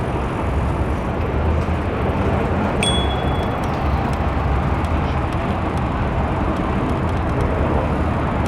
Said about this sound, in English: Plane at Billy Bishop, you hear?